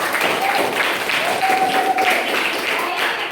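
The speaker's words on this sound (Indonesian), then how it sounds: "Tepuk tangan untuk kita semua anak-anak." A classroom of children applauds together for their class, steady dense clapping with children's voices mixed in throughout.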